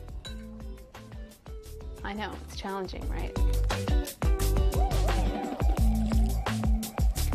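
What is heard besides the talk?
adding warm water to flaxseed meal in a bowl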